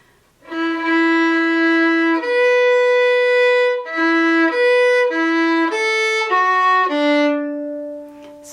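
A fiddle plays the A part of Morrison's Jig at an even tempo, a steady run of clear, bowed melodic notes, close and loud, with no talking.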